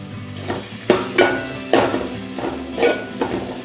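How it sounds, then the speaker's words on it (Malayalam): Chopped shallots frying in oil for Kerala prawn roast, a close sizzle broken by repeated spoon strikes and scrapes against the pan as they are stirred. "പിന്നെ നമുക്കിതിലേക്ക് ചെറുതാക്കി അരിഞ്ഞിട്ടുള്ള ചെറിയുള്ളി ചേർത്ത് കൊടുക്കാം."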